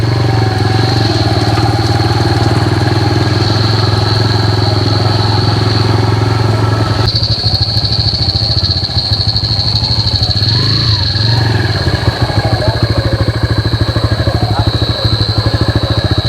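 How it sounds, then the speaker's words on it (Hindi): Two motorcycles ride along a forest road, their engines a steady, fairly loud drone that changes in tone as one gives way to the next, with a constant high whine above. "जैसे कि आपको एक टाइम में 2 बाइक निकलती है।"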